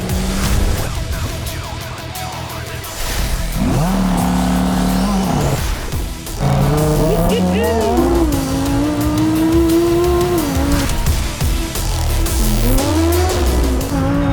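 A powerful supercar engine roars through rising revs and gear changes, loud and close, with tire noise and a falling whine between shifts.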